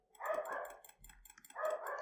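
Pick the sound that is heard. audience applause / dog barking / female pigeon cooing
dog barking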